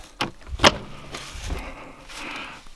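Sunroof of an old, rusted Mercedes 300 SEL 6.3 in a car graveyard, a few close mechanical clunks and knocks followed by a longer sliding rattle.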